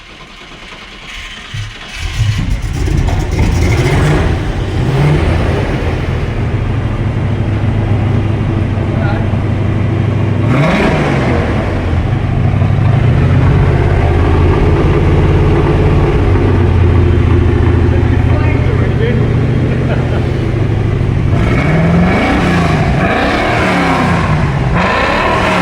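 An old Land Rover Defender engine runs steadily in a barn and is revved hard several times, a loud, close, throaty rumble that swells and falls, with a voice briefly speaking over it.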